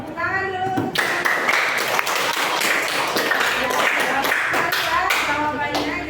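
Students in a classroom clap for a group during a physics lesson on heat transfer, a lively run of sharp, uneven hand claps with a few thumps and taps, while children's voices chatter in the background.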